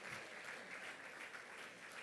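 Steady, enthusiastic clapping from a church congregation at a youth service, applauding the deacons; a dense, continuous wash of many hands close by, with no voices over it.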